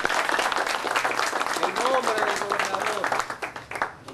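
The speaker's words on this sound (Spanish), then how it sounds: "Por favor, el aplauso para" An audience at a signing ceremony gives a governor a round of applause, dense clapping that holds steady and then thins out toward the end, with voices audible among the crowd.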